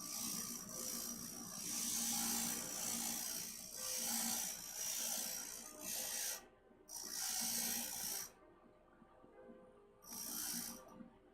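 A stained glass piece of a moth design is ground down on a glass grinder, a steady rough whirring buzz in several bursts with brief pauses between passes, fairly close and with no talking.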